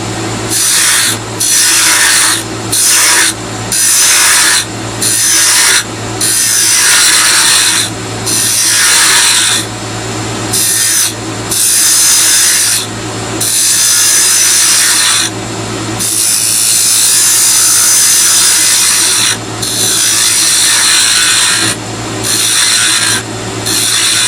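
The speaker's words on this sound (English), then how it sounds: "next we're going to come in with a spindle gouge. And we're going to do some shaping." Spindle gouge cutting a turned chess king on a wood lathe: a loud, continuous rasping shave of wood against the spinning blank, broken by frequent short pauses as the tool lifts and re-engages.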